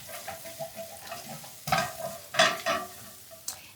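Pressed garlic from two cloves frying in olive oil in a pan, giving a faint sizzle and then louder scraping stirs in the second half, with a few sharp clinks near the end.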